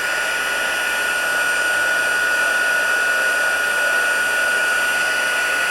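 An embossing heat tool blows continuously over embossing powder, a loud, close, steady fan roar with a bright tonal whine and no speech.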